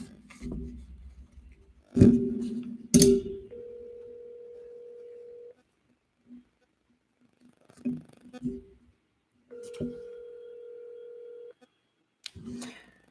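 A telephone being dialed: tones and steady beeps of a call line, with long sustained tones separated by handling noises and short clicks, fairly quiet.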